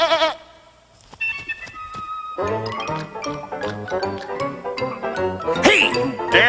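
A goat in a Berenstain Bears cartoon bleats in a loud, wavering cry after a few clinks and a brief quiet stretch, close and upfront, with cartoon sound mixed in.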